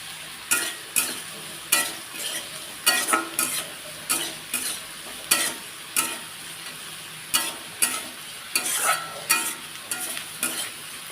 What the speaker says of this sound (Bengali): দেখুন এটা আমার কি সুন্দর লাল করে ভেজে নিয়েছি তো এর মধ্যে একটু আমি কালো জিরে দিয়ে দিচ্ছি